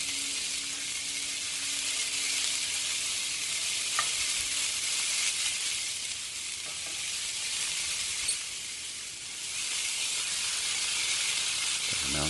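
Country style ribs and onions fry in a pan with a steady, close sizzle and hiss that holds throughout, broken by a couple of faint clicks.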